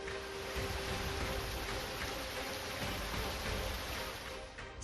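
Heavy monsoon rain pouring during flooding in Gujarat, a steady dense hiss of falling water with no break and no voices, moderately quiet and even from start to finish.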